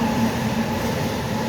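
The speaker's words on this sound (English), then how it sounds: "That's the Amtrak train right there." Amtrak Acela train passing near Roxbury Crossing station, a loud steady rumble and roar of rail cars close by with no talk.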